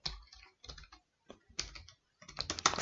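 JavaScript code being typed on a computer keyboard: close, quiet bursts of rapid key clicks with short pauses between them, ending in a denser flurry of keystrokes.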